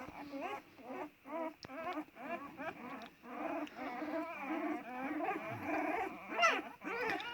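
Several Anatolian Shepherd puppies whimper and whine in high, wavering cries, overlapping nearly nonstop at close range, with a few brief yips.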